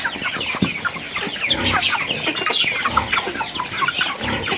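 A flock of chickens clucking and cackling close by, busy overlapping calls going on continuously with some rustling.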